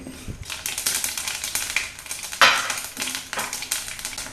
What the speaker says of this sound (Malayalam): എണ്ണ ചൂടാകുമ്പോൾ കടുകും ഉലുവായും കൂടി നമ്മൾ 1 ടീസ്പൂൺ കടുകും 1/2 ടീസ്പൂൺ ഉലുവായുമാണ് എടുത്ത് കടുകിടുന്നു, ഉലുവ ഇടുന്നു.